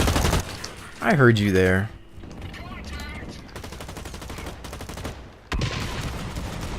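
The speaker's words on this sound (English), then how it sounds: "Let's see if we can get a couple of shots off on it." Rapid bursts of gunfire aimed at a mech in the shooter game Blacklight Retribution, loud and close, broken by brief pauses, with someone talking over part of it.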